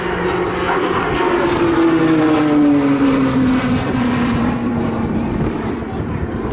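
A Tucano T1 propeller aircraft flies a display at the 2019 Southport airshow, its loud, steady engine drone sliding slowly downward in pitch as it passes and holding strongly throughout.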